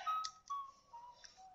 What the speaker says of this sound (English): What was that whistling? Why did I just hear whistling?